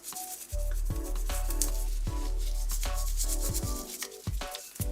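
Toothbrush bristles scrubbing the palate of a removable denture in a rolling motion, a steady close rubbing that runs in long strokes with brief pauses between passes.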